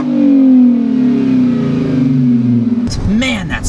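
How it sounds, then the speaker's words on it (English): A supercharged 460-horsepower Audi S4 with a six-speed gearbox revs loudly through a full Milltek exhaust, its deep, droning tone sliding steadily downward before a voice starts talking over the fading engine. "What you're hearing is the gases of 460 rampant horses fleeing through a full Miltek exhaust."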